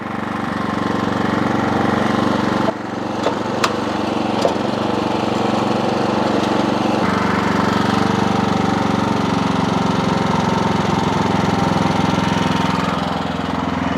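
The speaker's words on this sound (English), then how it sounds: "Now I'm gonna let it run because I'm warming up the oil." An Ariens Pro snowblower, old, rusty and neglected, runs steadily to warm its oil. The engine drone is loud and continuous, with a brief dip near the start and faint clicks over the hum.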